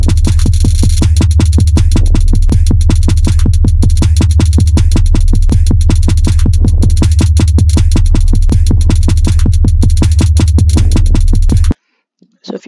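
A fast-tempo drum loop from Splice Beats Maker, loud and dense, with rapid evenly spaced hits and steady hi-hats running without pause for several seconds before stopping abruptly.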